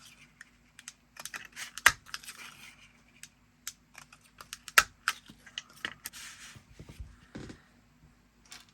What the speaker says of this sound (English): this is a 1-inch hole punch. I'm going to cut 4 of them.